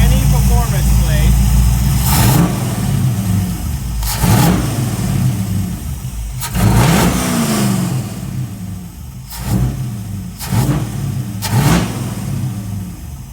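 A carbureted engine with a Holley carburetor in stock form, without a performance plate: close, loud idle rumble broken by several sharp revs that rise and fall, with someone talking throughout.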